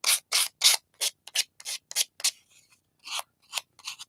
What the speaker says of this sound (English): So just to sand lightly around the edges.